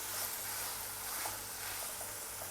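Whole coriander and cumin seeds dry-roasting in a pan for a chicken karela curry, giving a quiet, steady sizzle and faint crackle that runs through without pause, with no voices over it.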